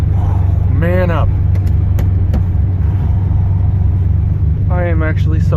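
BMW E34 engine running with a loud, rough, steady low rumble close by, while a voice exclaims twice over it.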